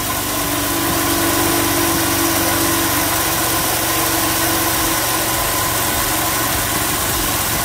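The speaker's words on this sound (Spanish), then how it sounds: "Y escuchen el motor, lo afinado que suena." Motor of a motorized chopper bicycle running steadily at idle after internal engine and muffler work, a loud continuous buzzing drone close by, with no talking.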